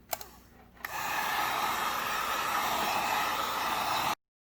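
A heat gun blasts a steady, loud rush of air at an iPad Pro screen to soften it, starting after a couple of clicks and running about three seconds before cutting off abruptly.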